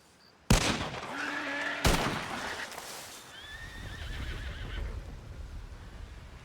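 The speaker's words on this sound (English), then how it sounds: "Oh, that's just horses." Horses neigh and whinny in a loud, close burst, one sharp call followed by another, with quieter whinnies trailing off under a noisy outdoor backdrop near a carriage.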